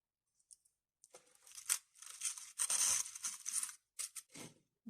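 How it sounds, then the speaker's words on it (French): Scissors snipping through dried flowers for a boxed arrangement, a run of close, crisp cuts and papery crackles in quick irregular bursts, with no talking. "je coupe pas trop grand"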